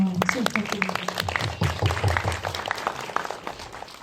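An audience at an indie film talk for the movie Hail to Hell claps in a brisk, moderately loud round of applause, with voices speaking over the clapping throughout.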